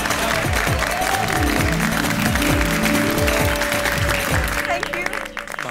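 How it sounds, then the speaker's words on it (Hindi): Applause and crowd noise in a comedic sitcom scene, sustained clapping layered over music and background voices, fairly loud and continuous before easing off at the end. "बबीता जी, सबको प्रेरणा देने वाली आपकी सोच के लिए तालियां तो बनती है"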